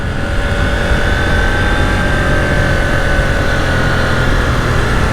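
A 2021 KTM 890 Duke R engine pulls in second gear at around 6,000 RPM, a loud steady drone with a tonal whine mixed with rushing wind noise.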